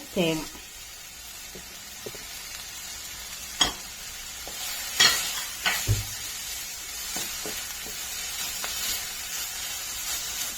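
Squid fry being prepared: onion-and-spice masala sautéed in a pan until its raw smell goes, with a soft steady sizzle under scattered clinks and scrapes of a spoon stirring, one louder knock partway through.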